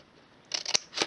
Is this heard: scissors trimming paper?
yes